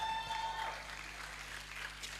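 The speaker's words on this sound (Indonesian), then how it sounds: "Tepuk tangan dulu dong untuk Abang Risdar." Applause from an audience at a theatre event comes through as a soft, diffuse wash of clapping, faint and slightly muffled, with a steady low hum underneath.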